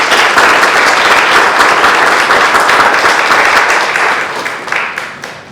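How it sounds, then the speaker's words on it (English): A loud, dense round of audience applause at an anniversary celebration, sustained evenly before tapering off near the end. "Let's receive them with a round of applause."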